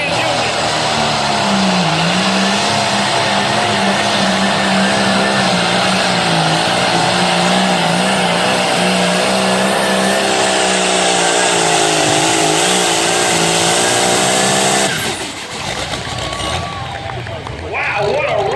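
A turbocharged John Deere tractor roars at full power down the track at a light limited turbo tractor pull in Libertytown, Maryland, loud and sustained for about fifteen seconds before dropping off, with crowd babble and a voice underneath.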